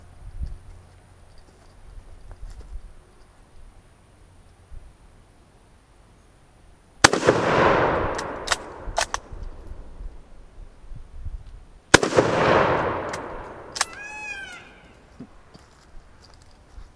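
Two loud, sharp shots from a Golden State Armory No1Mk3 .303 rifle fitted with a flash hider, each a sudden crack with a booming, echoing tail, spaced about five seconds apart over quiet outdoor background.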